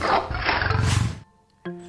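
A tiger in an animated Telugu folk tale about a tiger attacking a cow gives a loud, rough roar lasting about a second, followed by a short pause and a brief tonal effect.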